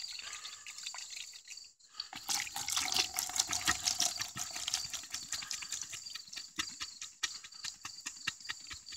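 Water poured into a container for an alcohol varroa mite wash of honeybees, a steady splashing stream that starts after a brief pause and continues with dripping, close and moderately loud.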